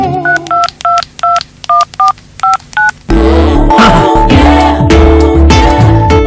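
Eight touch-tone beeps dial a long satellite phone number in a quick, even sequence, each tone short and distinct with small gaps, followed abruptly by a louder stretch of music and background sound.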